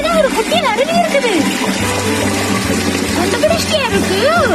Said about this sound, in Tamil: இங்கதான் ஒரு குட்டி அருவி இருக்குது.